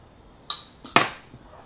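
A spoon clinks against a container while bentonite clay is added to homemade toothpaste, giving two bright, close metallic taps less than half a second apart in an otherwise quiet room.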